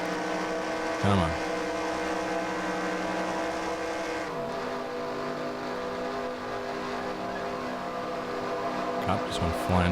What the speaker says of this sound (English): Cop just went flying past my house.